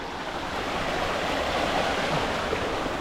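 Water at Ubbalamadugu waterfall pours down in a steady, dense roar, near and constant throughout with no voices.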